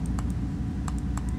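Sharp, close computer clicks in small bursts, a few quick taps, a pause, then more, as characters are selected in The Walking Dead social game; no one talks.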